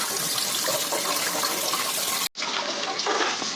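Okra is washed under a running tap, a steady close splashing and hiss of water that cuts out for a brief moment and then resumes slightly muffled, with no voices.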